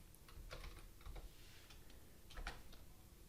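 Keys clatter on a computer keyboard as a command is typed, with irregular bursts of close, crisp clicks and short pauses, no voices.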